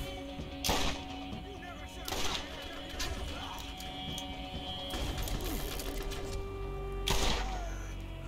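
Revolver shots in a video game crack out one at a time, three or four spaced reports at moderate loudness over a steady background hum, with some talk in between.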